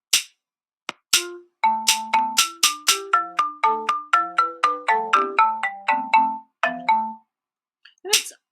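A melody composed in Chrome Music Lab Songmaker plays as a string of bright, bell-like synthetic notes over short bass tones, mostly evenly spaced and clear. A few scattered taps come before it and one after.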